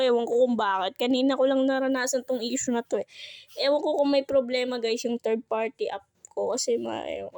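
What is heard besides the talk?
No everyday noises stand out.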